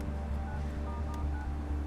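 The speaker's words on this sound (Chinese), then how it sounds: "还是得打电话问一问" Telephone dialing tones sound quietly over a steady low background hum, as steady electronic tones from a phone being dialed to make a call.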